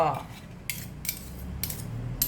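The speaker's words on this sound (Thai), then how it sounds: "คนน้ำปรุงให้เข้ากันนะเพื่อนเนาะ" A spoon stirs a seasoning sauce made with tamarind water, clinking against a bowl in several sharp, evenly spaced taps over a quiet background.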